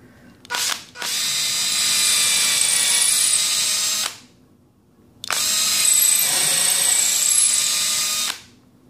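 A power drill drives a screw into a pre-drilled hole in a 2x4 board in two long, steady, loud whirring bursts with a short pause between them. A brief rev comes first.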